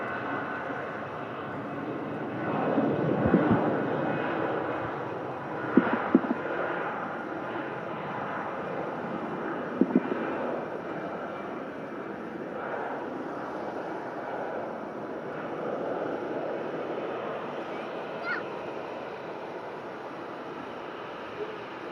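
Distant, steady roar of an EasyJet airliner rolling out at Manchester Airport, bound for Lisbon, holding at a moderate level throughout with a few faint knocks and some background voices.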